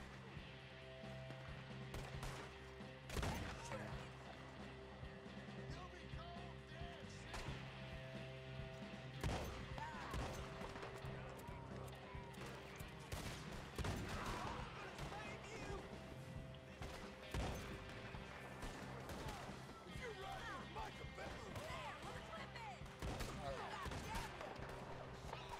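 Scattered shots and crashing bursts in a firefight in Red Dead Redemption II on PS4, repeating irregularly over a long stretch beneath game ambience, with someone talking intermittently.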